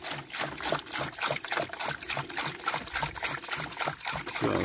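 Water pours and trickles steadily, a close, fairly quiet splashing stream outdoors on a hillside by honey bee hives, with no speech.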